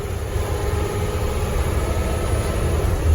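Cummins-powered Blue Bird school bus engine with a turbo on a road test: a steady, loud diesel roar with broadband rumble and a continuous high whine, heard from inside while driving.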